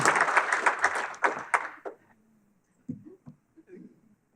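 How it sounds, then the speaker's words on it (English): A lecture audience applauds in a short burst of dense clapping that fades out after about two seconds, followed by faint scattered sounds and quiet talk. "Wait, we got to applaud for Fred."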